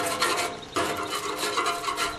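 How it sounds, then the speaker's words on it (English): A regular putty knife scrapes built-up grease off the inside of a gas grill in short, raspy strokes that come in quick bursts, close and fairly loud with no talking. "We're just going to take a regular putty knife or scraper, and let's just test a part."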